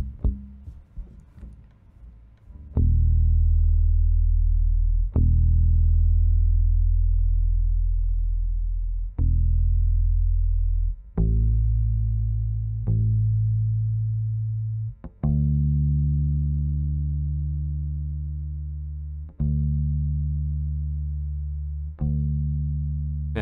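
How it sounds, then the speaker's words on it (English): Low, sustained bass notes plucked one after another on a bass instrument being tuned, each tone ringing and slowly fading before the next pluck, about nine strikes with no talking. "Tuning bass instruments, it's always so friggin' hard."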